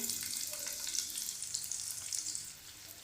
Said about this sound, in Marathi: कांदा चांगला खरपूस भाजून घेऊया